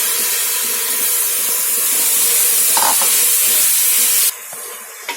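Mushrooms frying in a pan with onion, tomato and ginger-garlic for mushroom biryani, a steady hiss and sizzle with soft scraping stirs, cutting out abruptly near the end.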